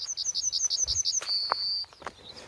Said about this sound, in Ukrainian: Навіть пташка каже, так воно є.